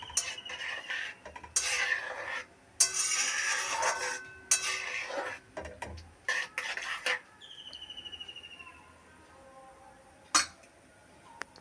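Metal spoon scraping and clinking in a pot as vermicelli is stirred into milk, with bursts of clattering strokes in the first half, then a quieter simmering stretch and a final sharp clink; no talking.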